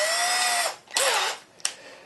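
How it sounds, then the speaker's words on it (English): A power drill whines at high speed, then bites in with strained bursts as it bores a pilot hole into a wooden chair rung, stopping and starting twice. "Now I'm going to start drilling a pilot hole"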